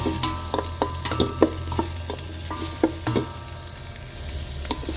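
Onion, garlic and ginger sauté in hot oil in a pan over a charcoal or wood fire, a steady soft sizzle broken by repeated scraping stirs and clinks at an irregular rhythm, close and fairly quiet.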